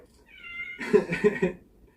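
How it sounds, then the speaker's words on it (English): A pet cat meows once, a drawn-out, wavering cry that rises into a louder, rougher middle and fades, close and clear against near silence. "I'm nervous that they're going to find out that I smuggled my cat with me"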